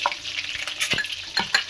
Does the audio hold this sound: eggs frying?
yes